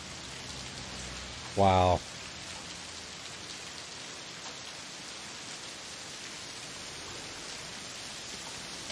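Steady, even hiss of heavy rain falling in a TV show scene, continuous throughout, briefly interrupted near the start by a single spoken exclamation.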